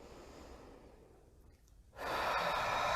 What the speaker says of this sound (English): so just take a nice deep breath